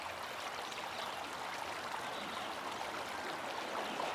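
A small creek runs steadily over its bed, an even, continuous rush and trickle of water heard up close with no other sounds breaking through.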